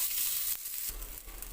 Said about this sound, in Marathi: यामध्ये थोडंसं तेल घालून भाजून घ्यायचा कांदा.